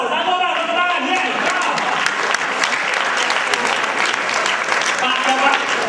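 An audience at a financial seminar applauds in a dense, continuous burst of clapping that lasts throughout, with voices mixed in.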